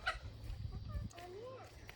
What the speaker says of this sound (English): But Joseph, do you want to feed the chickens a treat?